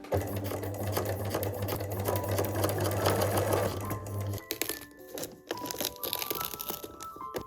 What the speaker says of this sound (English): Now I sew the loop inside out.